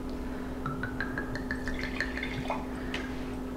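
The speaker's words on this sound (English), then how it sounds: "let's pour ourselves a glass of wine" Wine poured into a glass, heard as a run of rising liquid drips and gurgles that climb in pitch as the glass fills, close and fairly quiet over a steady low hum, with no talking.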